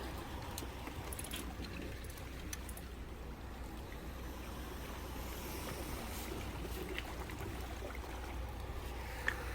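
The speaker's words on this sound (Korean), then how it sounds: "이 바람이 술술 나오고 있습니다" Steady wind and wave wash at Dongmyeong Harbor during mackerel fishing, with a continuous broadband rush of surf and gusts throughout and no talking.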